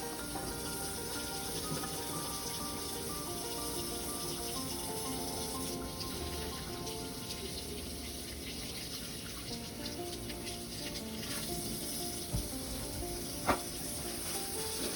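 Water runs steadily from a tap into a sink in a milking room, a constant hiss with faint clinks and a single sharp knock near the end, and no talking.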